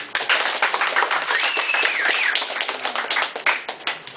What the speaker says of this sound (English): Can you give them a round of applause for the graduates?